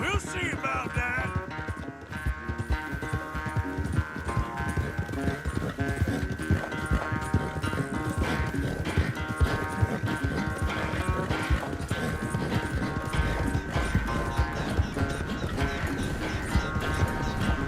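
Horse hooves clip-clop steadily through a race in Red Dead Redemption 2, a continuous galloping rhythm under game music and sound effects, with voices talking at times.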